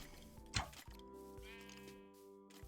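A sheep in the video game Minecraft gives a single short bleat early on, set against quiet in-game background music with tonal notes.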